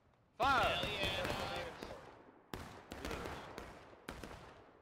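Musket volley fire in the War of Rights Civil War game: a loud, dense crash of many shots opens, then three more sharp, separate reports follow at roughly even intervals, with background voices underneath.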